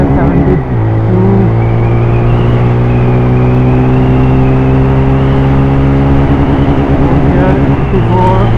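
A TVS Raider 125 motorcycle engine pulling hard as the bike accelerates through its gears, a loud close rising drone with a sharp gear-change dip early on and another near the end.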